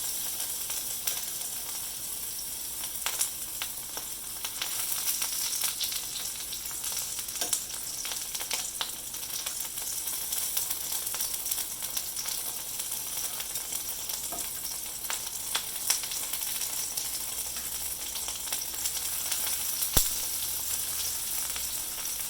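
Morel mushrooms fry in a pan with a steady, loud, dense sizzle throughout, broken by a few faint clicks and scrapes of tongs turning the pieces.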